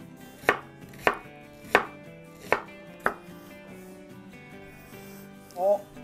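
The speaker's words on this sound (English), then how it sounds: "Just gonna take the onion, cut it in half, and just slice it up." A knife chops through an onion on a cutting board, five sharp, evenly spaced thuds close by, then a quieter rustle at the end with no talking.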